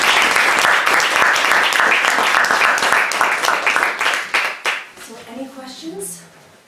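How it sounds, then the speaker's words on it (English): Applause for a conservation monitoring team at a species-at-risk talk: dense, steady clapping from a room full of people that thins out and fades after about five seconds, leaving scattered claps and faint voices. "let's have a round of applause for this awesome team"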